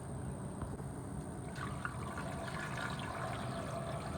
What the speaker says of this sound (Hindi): 4 जग भर के हम इसमें पानी शामिल कर देते हैं।